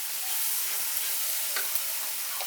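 Spice paste for a Bengali soya chunk curry fries in a pan with a steady, close sizzle, while a spoon stirs it with soft scraping strokes that grow louder near the end.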